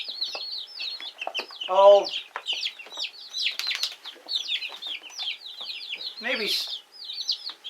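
Many young chicks, buff Orpingtons and Cornish meat birds, peep continuously in a home brooder, with dense overlapping high chirps throughout and a couple of brief quiet remarks from a person nearby.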